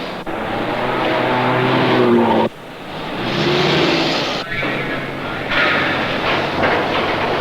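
Machinery on a Ford Pinto car assembly line at a plant in Milpitas, a loud, dense industrial roar with clanks and abrupt cuts between bursts, continuous mechanical noise throughout.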